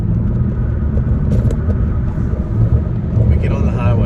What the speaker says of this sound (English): We get on the highway, we get on the throttle, and man, it just picks it up.